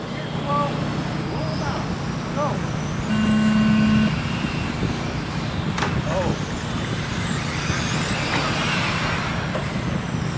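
Race cars on a small oval roll out onto the track, a steady broad engine drone filling the scene with a brief horn-like tone and a voice over the top.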